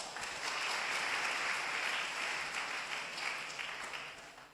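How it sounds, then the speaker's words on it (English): An audience applauds steadily at an academic conference, a dense, sustained round of clapping that holds at an even level for several seconds before easing off slightly at the end, with no voices over it. "Let's give him another round of applause"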